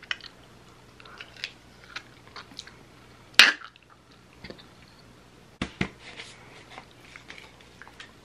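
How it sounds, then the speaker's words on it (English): Crunching bites and chewing of a flavored potato chip, a few sharp crunches with a loud bite in the middle and scattered softer chewing clicks close to the mouth, no talking. "Put the powder on the right side so that I could have the crunch of the chip"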